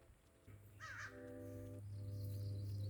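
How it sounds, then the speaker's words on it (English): A crow caws outdoors, a couple of harsh calls ringing out at moderate distance over a low steady hum, with no talking. "The crow has something to say."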